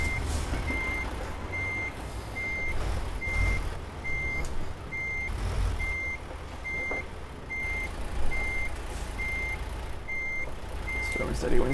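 Reversing beeps sound at a steady, even rhythm from a truck backing a trailer in Euro Truck Simulator 2, over a constant low engine rumble that carries on throughout.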